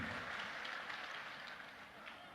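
Audience applause at a public programme, a steady wash of clapping that sounds faint and distant and continues for the whole span without letting up.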